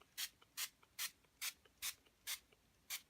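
Spray bottle spritzing water onto watercolor ink, seven short crisp hissing bursts at a steady pace about every half second, close and fairly quiet with no voices.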